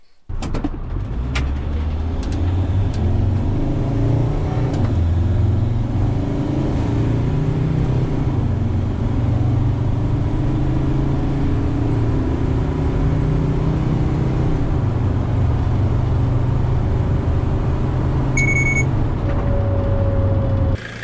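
A 2006 Mercedes/Dodge Sprinter T1N van with an OM647 diesel and a GT23 hybrid turbo, driving on the road with a steady loud engine drone and rising and falling revs throughout, heard from inside the cabin.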